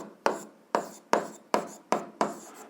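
Pen strokes on paper while working an algebra exercise, six short scratchy bursts at a steady rhythm, close and clear with no talk.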